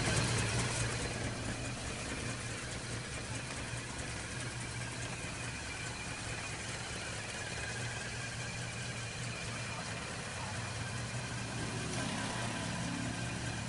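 A 1995 Isuzu Trooper petrol engine idles evenly and smoothly throughout, a continuous low hum with a faint higher whine and no talking.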